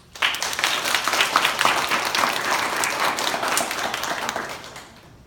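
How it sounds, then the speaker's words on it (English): Audience applause for volunteers at a South Suburb community gathering, a sudden onset of dense clapping that holds steady for several seconds before fading. "give another round of a big applause to those volunteers that make their time and efforts for our cause"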